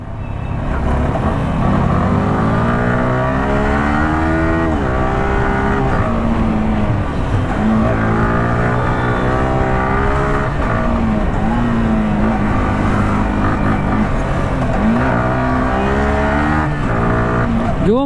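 A Yamaha R15M sport motorcycle riding fast and filtering through traffic on the street, its engine droning loud and steady throughout with rising and falling revs close by.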